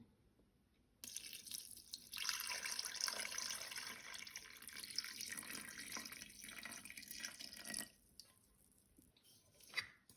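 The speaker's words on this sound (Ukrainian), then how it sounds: "Добавляємо воду 450 грам." Water poured from a container into a bowl of rye bread starter in a home kitchen, a steady close splashing stream running for several seconds before trailing off, no voices.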